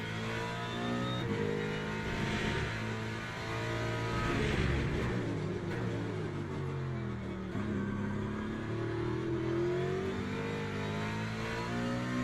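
A GT3 race car engine in Le Mans Ultimate roars continuously at full throttle, loud and steady, with the rising and falling pitch of revs climbing through the gears.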